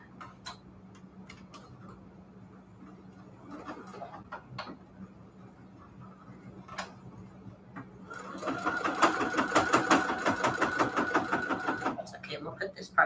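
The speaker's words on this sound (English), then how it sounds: "I'm just going to sew it on this side so I can see what I'm doing." A home sewing machine stitches a fabric mat. Quiet ticking and short whirring bursts come first, then a steady, louder run of rapid mechanical stitching in the second half, with occasional talk.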